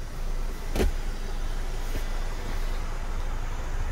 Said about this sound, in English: Sunroof opens up.